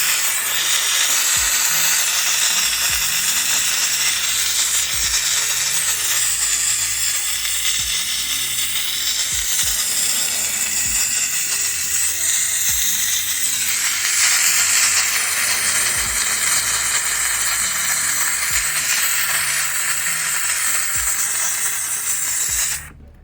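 McCulloch MC1385 steam cleaner blasts a continuous, loud, hissing jet of steam close by, steady for over twenty seconds with scattered small knocks beneath, before cutting off abruptly.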